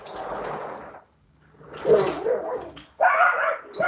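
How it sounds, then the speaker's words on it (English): A dog barks in bursts while chasing squirrels, with a lull partway through and then louder, sharper barking near the end; no one speaks. "my dog's chasing squirrels"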